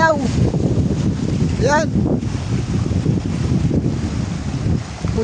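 Strong storm wind gusting and buffeting loudly outdoors in darkness during a typhoon, a continuous roaring rush with a brief voice heard over it.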